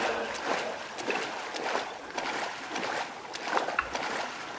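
Longtail boat engine in Ghost Recon Wildlands, a steady buzzing motor drone with water wash, running on its own at moderate loudness.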